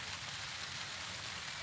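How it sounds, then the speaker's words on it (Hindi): Heavy rain pours steadily over a lake in a dense, even hiss, loud and continuous throughout with no breaks. "ताबड़तोड़ बारिश हो रही है।"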